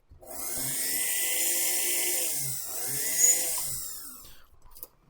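Corded Foredom flexible-shaft rotary tool with a roughly 1/3 horsepower motor, whirring at a steady high pitch for about four seconds before spinning down, close and clear with no talking.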